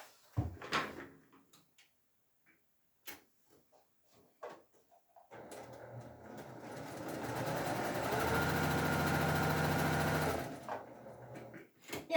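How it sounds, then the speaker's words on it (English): Home sewing machine stitching half square triangle quilt pieces, preceded by scattered clicks and handling knocks, then a steady close whirring run of several seconds that winds down and stops. "I'm going to sew a scant 1/4 inch along both sides of my drawn line."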